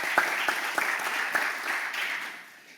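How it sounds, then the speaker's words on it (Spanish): Audience clapping for a group of speakers at a talk, a moderate burst of claps that holds steady for a couple of seconds then starts to thin out. "Se puede aplaudir a cada una de las ponentes"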